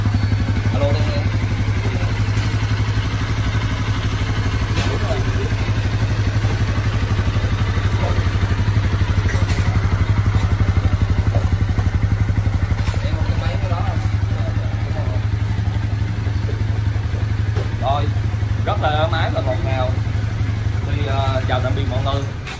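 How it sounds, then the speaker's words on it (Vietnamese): A Honda Sonic 150 motorcycle engine fitted with CNC rocker arms runs steadily up close, a loud continuous idle with mechanical clatter and occasional revving throughout. "tay sẽ cho anh em nghe lại thêm một cái nữa về phần máy, phần động cơ"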